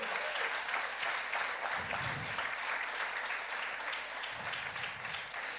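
Congregation at an evening church service applauding God, dense sustained clapping from a large crowd that swells and settles but never stops, heard alone at a steady level.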